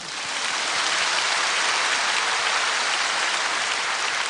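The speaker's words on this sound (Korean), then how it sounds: "하나님께 한번 박수하십시다." A large church congregation bursts into sustained applause, a dense, even roar of many clapping hands that swells in quickly and holds steady with no voices over it.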